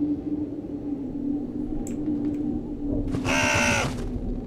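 A bird caws once in the Jisatsu horror game set in a haunted Japanese house, a short harsh burst near the end that rises over a steady low ambient drone.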